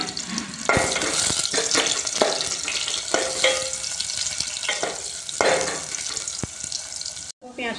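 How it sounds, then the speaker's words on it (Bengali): Onion frying in hot oil for a jhinge-aloo posto curry, giving a steady close sizzle with occasional stirring clatter and a brief pause near the end. "এরপর আমি পেঁয়াজটা দেবো।"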